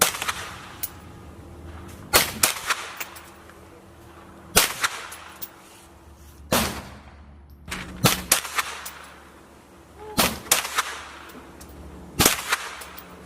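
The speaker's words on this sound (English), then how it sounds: "I shot a few 3-shot groups just to make sure that there wasn't any shift in point of impact" Rifle or pistol shots fired while sighting in a red dot optic, roughly eight sharp loud cracks spaced a second or two apart in small groups, each with a short outdoor echo tail, no talking.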